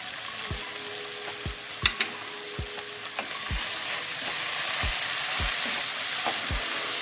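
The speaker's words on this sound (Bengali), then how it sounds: "নেড়ে চেড়ে একটু কষিয়ে নেব মশলাটা যাতে না পুড়ে যায়" Spice paste of ground ginger and a little dried chili powder frying in a pan for vegetarian aloo dum, a steady sizzle broken by repeated stirring scrapes and knocks of a spoon.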